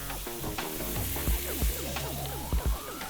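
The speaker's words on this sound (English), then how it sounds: "I'm going to go ahead and add some butter" Butter sizzling in a hot pan with short rib, a steady frying hiss broken by a few soft clunks as the pan or meat is moved.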